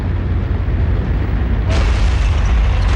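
A World War II artillery barrage in 1942 rolls as a loud, continuous low rumble of blasts. It grows heavier and brighter partway through, with no talking.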